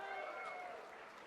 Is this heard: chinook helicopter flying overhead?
no